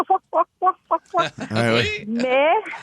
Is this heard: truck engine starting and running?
no